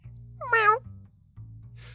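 A single cat meow, mid-length and fairly loud, rises over a low steady hum. A faint trailing sound follows near the end.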